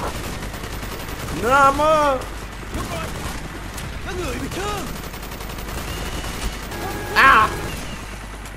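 Gunfire and an artillery strike crackle in a Call of Duty Black Ops battle, a continuous rattle of shots and distant blasts beneath radio chatter and a man's exclamations.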